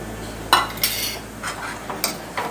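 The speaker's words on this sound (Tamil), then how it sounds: "இப்போது தயிர் இதில் விட்டுடலாம்." A few sharp metallic clinks of a utensil against a pot, with light stirring scrapes and a soft pour of curd in between, for mor kuzhambu, close by and fairly quiet.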